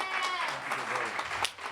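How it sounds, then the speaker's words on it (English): Brief applause from a lecture audience, a wash of clapping with a sharp clap standing out near the end, at moderate volume. "give a big round of applause for Dr. Wes Bellamy"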